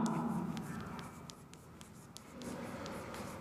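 Chalk or marker scratching and tapping on a classroom board in a series of light, irregular strokes, faint against a low room hum.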